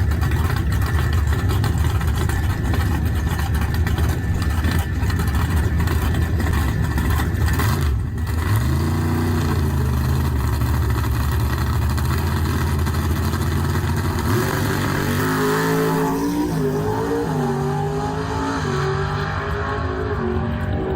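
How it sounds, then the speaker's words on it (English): A loud drag racing car roars continuously as it launches down the strip at a dragway, revving and climbing in pitch as it accelerates, with shifts and sustained high-power howling. "You can hear from the outside of the car as the car goes into high"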